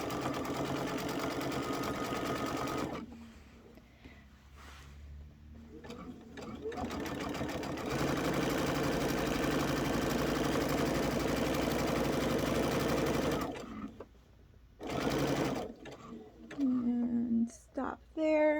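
A sewing machine stitches through quilt fabric, a fast even whirring hum running in long stretches, then stopping and restarting in short bursts while a person talks nearby.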